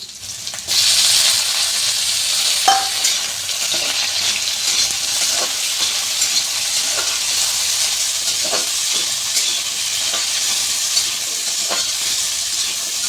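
Chopped tomato drops into hot oil in a pan for an egg curry, setting off a sudden, loud, continuous sizzle that holds steady, with occasional soft knocks from stirring and no voices.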